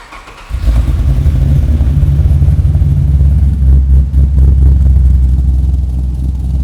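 A Mazda RX7 with an LS engine swap fires up after a short quiet moment, then holds a loud, close, steady rumbling idle with a faint uneven pulse, with no talking over it.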